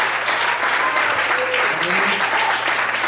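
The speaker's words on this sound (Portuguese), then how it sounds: "Mais aplausos para Deus." A church congregation applauds steadily and loudly throughout, a dense wash of clapping with no pause.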